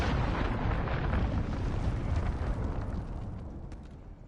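A cruise missile explosion in a video game: a loud, broad roaring blast that rumbles on and slowly fades away, with no voices.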